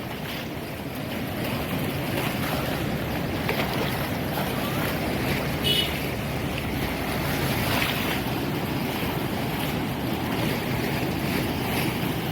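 Fast-flowing floodwater of the Kaveri river rushes in a steady, loud roar with wind buffeting the microphone throughout, no voices over it.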